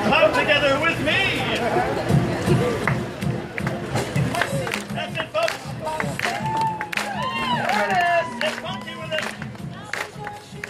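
Crowd members at the Arizona State Fair clap together with hands raised during a fire-juggling street show, a string of sharp, roughly rhythmic claps under a performer talking and the noise of the crowd.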